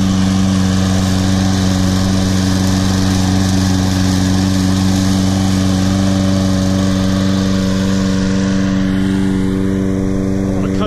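Toro Recycler SmartStow self-propelled lawn mower, model 20339, runs steadily up close, its engine drone holding even throughout with a slight shift in pitch near the end.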